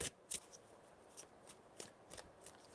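Tarot cards are shuffled by hand at close range, giving quiet crisp riffles and soft taps in a few short bursts over a faint background.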